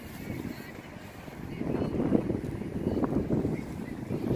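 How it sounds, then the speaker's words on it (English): Wind buffeting a microphone outdoors while a small BetaFPV 85 Pro 2 FPV drone flies, a steady low rumbling roar that swells louder in gusts about midway and stays continuous. "Man, and this wind is really blowing."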